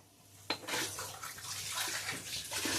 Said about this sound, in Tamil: கடாயில் எண்ணெய் ஊற்றிக்கிறேன்.